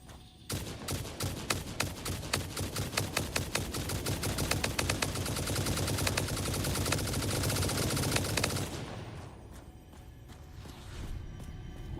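Rifle fire in the video game Satisfactory, aimed at hostile plants, rattles out as a rapid, loud, evenly spaced stream of shots for about eight seconds before stopping abruptly, leaving quieter ambience.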